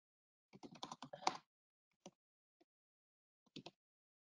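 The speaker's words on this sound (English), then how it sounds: "So let's type that in." Keystrokes on a computer keyboard, a quick burst of close clicking taps followed by a few isolated single key presses after short pauses, in a quiet room.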